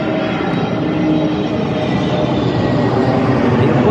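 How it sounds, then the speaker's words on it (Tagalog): Loud, steady roar of an airplane passing overhead in Dubai, a broad continuous rumble that fills the whole stretch with no break and no talking. "narinig nyo namin kaya yung aeroplano"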